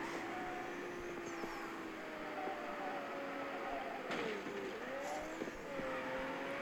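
A Bugatti Chiron races and drifts in the mobile game Need For Speed No Limits, its engine droning steadily with rising and falling pitch shifts and brief tire squeals during the slides.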